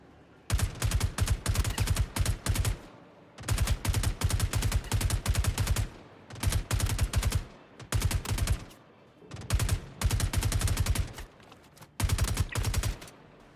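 Automatic weapon fire in Star Citizen comes in five long, loud bursts of rapid shots, each lasting a couple of seconds and separated by short quiet gaps.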